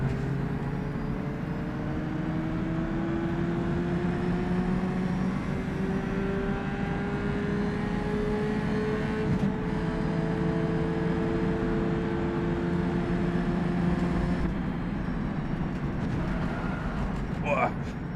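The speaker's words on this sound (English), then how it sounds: "I know this car is a little quiet, but it's just wind noise mostly" A historic race car with a roughly 60-horsepower engine, driven in the rFactor 2 sim racing game, gives a quiet, steady engine drone under constant wind noise throughout.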